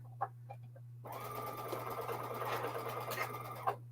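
A sewing machine runs continuously for about three seconds while stitching a quilt row, a steady close whir after a few light clicks, with a constant low hum underneath; no talking.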